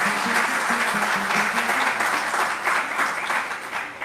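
A crowd at a devotional Bhagavat katha gathering claps in steady, sustained applause, with a faint rhythmic musical tone running underneath.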